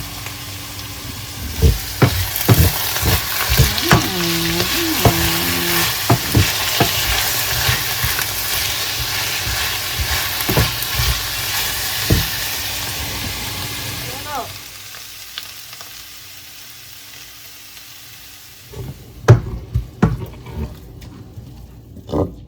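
Garlic and onion frying with chanterelle mushrooms in a pan, a loud continuous sizzle with scattered clicks and knocks of a utensil, quieting toward the end before a few sharp clatters.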